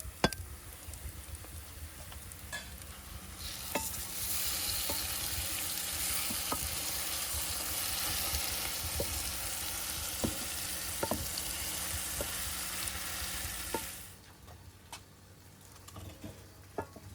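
Chopped vegetables for fish borscht fry in a pan in a rustic Carpathian village kitchen, a steady close sizzle with occasional ticks and stirring, quieting near the end.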